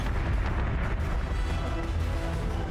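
A warship's gun battery fires in a space combat video game, giving a continuous rumbling barrage of heavy booms that stays steady and dense throughout.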